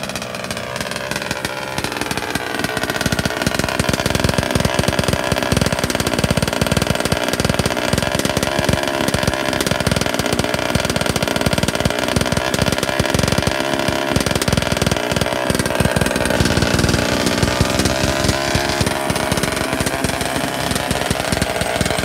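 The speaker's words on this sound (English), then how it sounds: "So, I got Mike Jones's 37 bash mod up and cracking and idling." A Rovan 37cc piston-port engine with a bash mod runs steadily on its first heat cycle, its buzzing two-stroke note continuous and loud at close range with slight rises and dips, and no voices over it.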